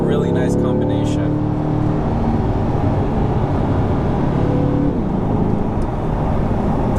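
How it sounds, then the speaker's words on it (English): A 2020 Chevrolet Corvette in track mode roars loudly and steadily up close as the throttle opens, the dual-clutch gearbox snapping through a quick downshift near the start before the engine note holds strong. "In track mode, when I'm ready to go, I just press on throttle and it downshifts instantly."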